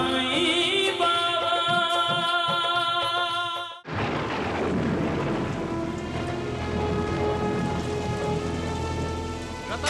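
Steady, dense rain pours down at night in a close, continuous hiss, starting abruptly after the music cuts out and continuing to the end without a break.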